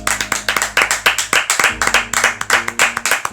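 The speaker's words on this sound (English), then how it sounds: "Can we just give a round of applause?" A small group clapping enthusiastically, steady sharp claps close by for a few seconds with no talking.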